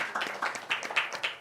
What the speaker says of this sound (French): on applaudit un peu pour ce coup